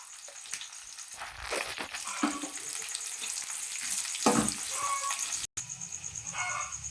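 Tempering spices sizzle and crackle loudly in hot oil for bisi bele bath, with scraping stir sounds, close up and continuous.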